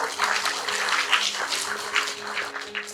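A live stage show audience applauds, a dense steady wash of clapping with a faint held musical tone underneath.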